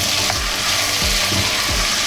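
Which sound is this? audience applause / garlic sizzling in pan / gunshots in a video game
garlic sizzling in pan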